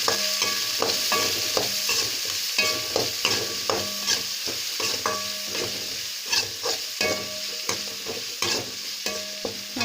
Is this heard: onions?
yes